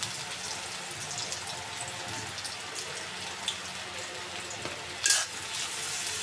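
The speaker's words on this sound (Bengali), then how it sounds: "পেঁয়াজটা আমি একটু নরম নরম করে ভেজে নিব, বেশি লাল করব না।" Chopped onions fry in hot oil in a wok after cinnamon, bay leaf and cloves, for a mutton liver bhuna: a steady, close, even sizzle with a brief louder clatter near the end and no talk.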